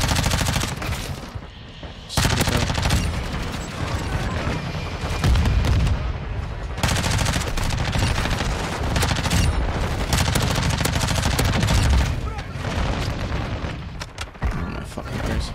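Dense LMG gunfire in a Modern Warfare 2 match roars in long sustained bursts with booming impacts and explosions, loud and continuous, separated by brief breaks, with game noise mixed in.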